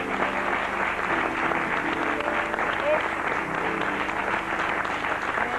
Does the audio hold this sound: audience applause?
yes